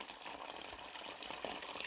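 Water poured into the side of a garden plant pot, a soft, steady trickling and splashing that stays faint and continuous, with no voices.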